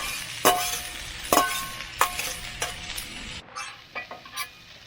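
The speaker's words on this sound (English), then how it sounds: "Right now it's really just stir fry" Rice scraped and tossed in a hot pan for chicken fried rice, sharp metallic clinks of a utensil striking every second or so over a low sizzle.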